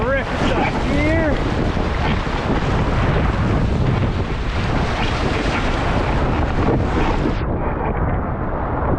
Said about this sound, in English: A few more rapids up here.